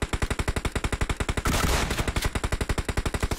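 Rapid automatic gunfire in PUBG Mobile on the Erangel 2.0 map, a steady burst of evenly spaced loud shots that swells briefly in the middle, then resumes its rhythm, with no talking.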